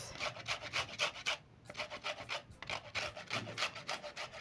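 Lemon zest is grated for a lemon poppy seed cake, a close, quiet, rhythmic scraping of peel across a grater in quick repeated strokes with one short pause.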